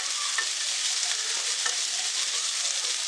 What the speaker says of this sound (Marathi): त्याच्यामध्ये थोडी कोथिंबरी मस्त मिक्स करून घेऊया